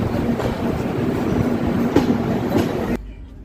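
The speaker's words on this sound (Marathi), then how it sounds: "वसईवरून आपली गाडी वेळेवर सुटलेली आहे" The Jaipur–Yesvantpur superfast express rumbles along steadily after leaving Vasai, with loud, continuous wheel and carriage noise and faint clacks from the rails, before the sound drops away sharply near the end.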